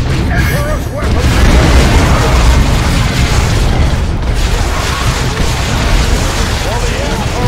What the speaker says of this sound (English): Deploy Melta Bomb.